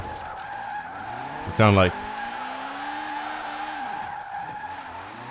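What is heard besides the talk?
high-revving Honda-engined Mini drifting, Forza Horizon 4 video game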